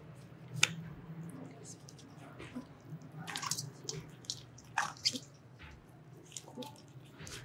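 A placenta and umbilical cord are washed by hand under running water during a clinical nursing procedure, giving soft wet squishes and drips that come in irregular bursts over a quiet, steady background.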